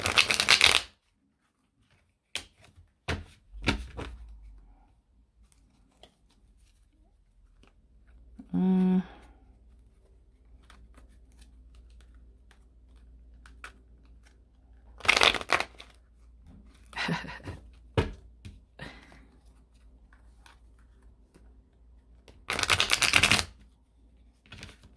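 A deck of tarot cards is shuffled close by in several loud, fluttering riffle bursts, separated by quieter stretches of small card clicks and handling noises.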